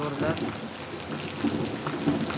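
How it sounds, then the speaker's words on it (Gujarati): Heavy rain falls in Surat amid a thunderstorm, a constant dense hiss and patter with low rumbling beneath it, steady throughout. "કડાકા ફડાકા સાથે આ વરસાદ પડી રહ્યો છે"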